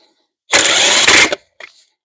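A ratchet wrench tightens wheel nuts on a Kubota B2601 compact tractor, giving one loud, close burst of rapid clicking lasting under a second, followed by a brief fainter rattle.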